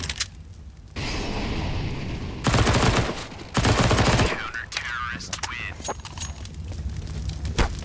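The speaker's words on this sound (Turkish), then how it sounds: "Üç adam vurdum galiba." Rapid gunfire bursts from a Counter-Strike match on the Inferno map, loud close rifle volleys in several clusters over about eight seconds, with dense broadband cracks between quieter game ambience.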